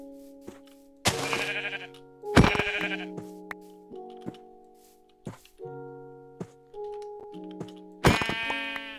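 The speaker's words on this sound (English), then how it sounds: "Sheep instead of cows." Sheep in Minecraft bleat in several short, wavering calls, loud and close with gaps between them, some calls overlapping, alongside a few faint clicks.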